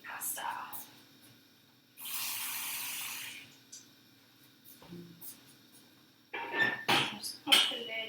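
Tap water runs into a large pot of cooking pasta for a cheesy beef pasta bake, a brief steady pour of about a second, with faint voices and kitchen clatter before and after.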